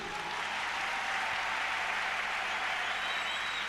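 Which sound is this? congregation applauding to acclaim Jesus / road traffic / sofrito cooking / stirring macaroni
congregation applauding to acclaim Jesus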